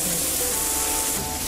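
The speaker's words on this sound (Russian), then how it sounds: "на этой же сковородке обжарим слегка наш бекон" Bacon frying in the same pan just used for a burger patty, giving a steady, dense sizzle and hiss, loud and close throughout.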